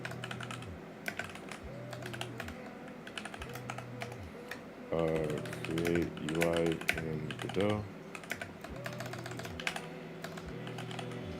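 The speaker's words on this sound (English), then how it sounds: "You just spend 40 minutes just typing a document." Computer keyboard keys clatter in quick, uneven bursts while someone builds a game interface in the Godot engine; a voice speaks briefly midway as the typing carries on.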